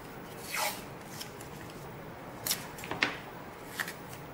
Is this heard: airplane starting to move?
no